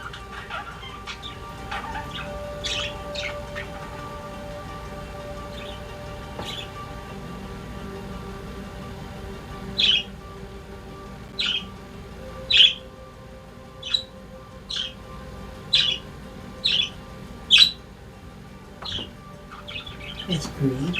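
Small birds chirp in a series of short, sharp calls, sparse at first and then more regular, fairly close over a quiet indoor background.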